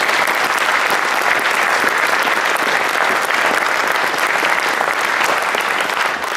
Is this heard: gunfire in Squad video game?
no